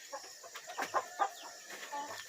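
Several chickens at a small backyard coop give soft, scattered clucks and short calls over a couple of seconds, fairly quiet and close, with faint ambient noise between calls.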